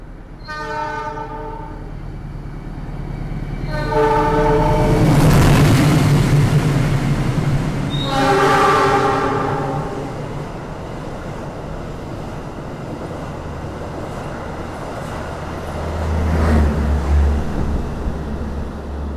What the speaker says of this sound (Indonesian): Itulah barusan ya, perjalanan kereta api Argo Dwi Pangga menggunakan kereta